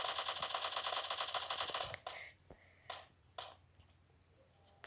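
Rapid automatic gunfire rattles in a steady burst during a PUBG Mobile Lite match, then gives way to a few separate, sharper shots over a quieter background.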